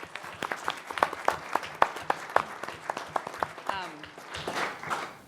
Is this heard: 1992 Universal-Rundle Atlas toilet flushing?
no